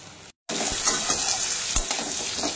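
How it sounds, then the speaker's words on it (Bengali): Potatoes fry with salt and turmeric in a pan, giving a steady bright sizzle with a few soft stirring scrapes, a brief dropout near the start, and no voices. "তো এদিকে বসিয়ে দিলাম আলু ভাজা, নুন হলুদ দিয়ে একবারে।"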